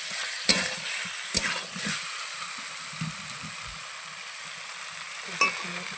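Meat curry being sautéed (kosha) in a pan, a soft steady sizzle with a few sharp stirring scrapes and clinks of a spoon against the pan, close and moderate in level with no talking.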